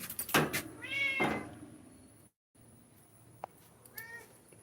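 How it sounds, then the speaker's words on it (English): Neighborhood cats meow close by in a couple of drawn-out, rising calls, with a short gap of silence, a small sharp tap, and then a fainter meow at the end. "These are our neighborhood cats."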